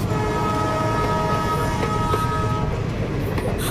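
A passing train rumbles steadily with a sustained horn tone riding above the loud, continuous roar of the rail cars.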